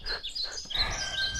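Bright birdsong opens a morning radio show, with quick chirps and tweets repeating close and clear over a soft low rumble for the whole moment.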